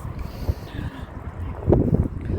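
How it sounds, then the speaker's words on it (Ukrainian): Strong wind buffets the microphone on a seaside embankment in Chornomorsk by the Black Sea, a continuous low rumbling roar that swells and gusts over about two seconds, with no clear voices. "вітер сильний"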